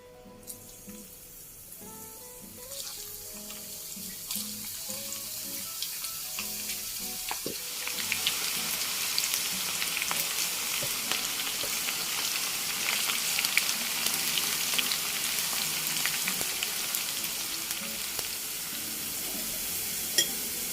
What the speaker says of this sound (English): Now we fry the shallot until golden brown.